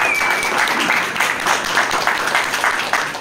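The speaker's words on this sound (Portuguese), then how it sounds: "Palmas para vocês." Sustained applause from a group at a Brazilian TV network recording session, dense and steady for the whole stretch with no clear voices over it.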